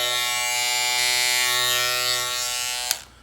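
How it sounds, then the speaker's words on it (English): A Wahl Retro T-Cut trimmer buzzes loudly and steadily up close, a harsh high-pitched whine that ends with a click as it switches off. "That's probably the loudest trimmer I've ever heard."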